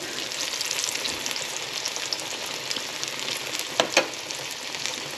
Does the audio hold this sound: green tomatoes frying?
yes